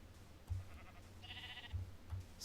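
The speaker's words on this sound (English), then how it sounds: "Oh, look at all those sheep." Sheep bleating in the video game Minecraft, a single short, fairly faint bleat heard clearly on its own amid quiet low thumps.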